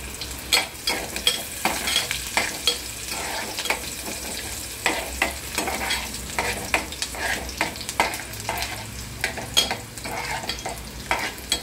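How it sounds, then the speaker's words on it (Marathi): Cumin seeds sizzle and crackle in hot oil in a pan while bhendi is being cooked, a steady close hiss broken by frequent sharp pops and stirring scrapes, with no talking. "जिरे टाकले मी,"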